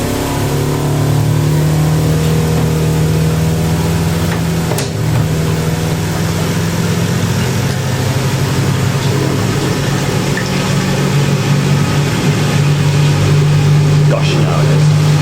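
A 1980s Ariston by Colston Electronic 3000 spin dryer runs up toward 3000 rpm, giving a loud, steady motor whine with a strong low hum and rattling vibration that holds constant throughout, with a voice speaking over it.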